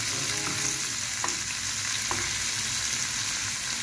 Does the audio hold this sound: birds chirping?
no